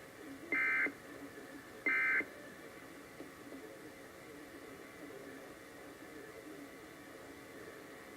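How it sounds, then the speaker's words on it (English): Two short, loud electronic alert tones sound about a second apart during an Iowa Emergency Alert System test broadcast, then only low hiss and quiet background remain. "This is a test of the Iowa Emergency Alert System."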